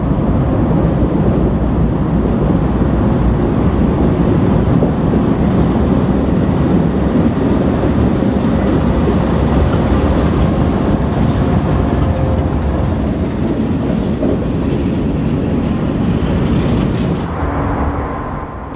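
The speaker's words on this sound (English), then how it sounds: "westbound train A435 as it journeys from Toronto to Lynden" A westbound passenger train rumbles past on Canadian National's Dundas Subdivision in Ontario, a loud, steady roar of wheels and engine that holds for a long stretch before easing slightly at the end.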